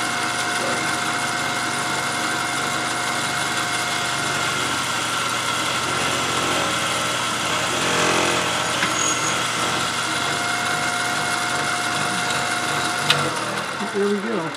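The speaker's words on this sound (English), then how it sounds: "Could gear the lathe up a little bit." A small Proxxon 250 benchtop lathe runs steadily up close, a continuous motor whine with mechanical hum and a faint ticking texture, alone throughout with a brief clack near the end.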